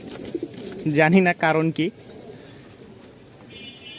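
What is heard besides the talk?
restless fancy pigeons cooing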